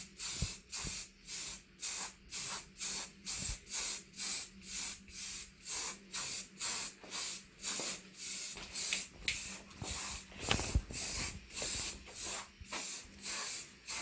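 Spray paint hisses in short regular bursts, roughly one pass per half second, close and steady, as a coat is sprayed onto a Coleman mini bike being prepared for hydro dipping.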